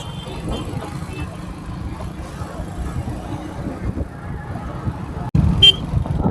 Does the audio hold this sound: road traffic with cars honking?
yes